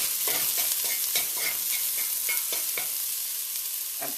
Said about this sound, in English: I crushed up 4 cloves of garlic, which I'm just going to add into the pot here. Give that a quick stir.